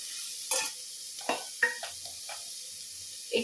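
Carrots and beans are stir-fried in a pan: several separate scraping stirs and brief sizzles come close by over a quiet hiss, with short gaps between strokes.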